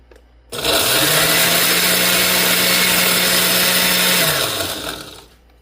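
A blender crushes ice for a banana cocktail, starting abruptly with a loud steady whir that holds for several seconds with a constant motor tone, then winds down near the end.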